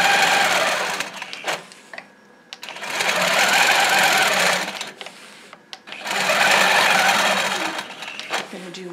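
A domestic sewing machine stitches a quilt guided by straight quilting rulers, running in three long steady bursts with short pauses between them, loud and close with no talk over it.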